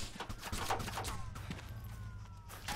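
Gunfire in a multiplayer video game during a police raid on a base, a faint, steady crackle of shots sitting under the background game noise.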